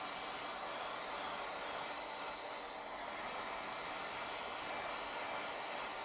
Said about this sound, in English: now I am drying the green circle with my heat gun.